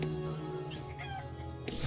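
A chicken clucks briefly and softly in the fantasy role-playing game Dungeon Siege: Legends of Aranna, set against game background sound.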